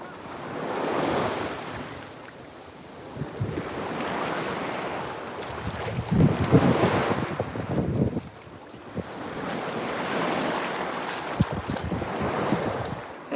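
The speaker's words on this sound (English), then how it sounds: "These waves are getting kind of wild" Waves break and wash ashore along the Gulf of Mexico in steady, rolling surges, with gusts of wind buffeting the microphone and no voices.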